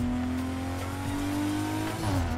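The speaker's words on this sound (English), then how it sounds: "It's got the blow-off valve sound when it shifts and stuff." A turbocharged car races in Need for Speed Carbon, its engine droning steadily and loudly. Near the end it shifts gear and the engine pitch drops.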